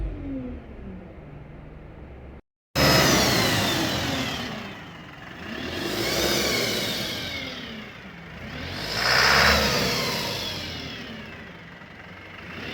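A 2022 Alexander Dennis Enviro 200 single-decker bus with an automatic gearbox runs its engine in a close, steady drone that swells and eases several times, like gentle revs over idle, after a brief silence near the start.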